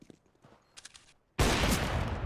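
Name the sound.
gunshots in the video game CS:GO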